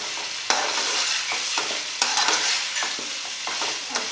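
Green chillies being stirred into a beef karahi of softened tomatoes, a constant close sizzle broken by repeated scraping strokes of a spoon against the pan, with no voices.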